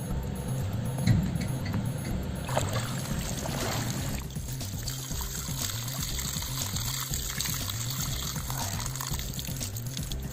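A fish trap pot is hauled out of a stream during the monsoon in rural Konkan. There is continuous running and trickling water with soft splashes and sloshing as the pot is lifted.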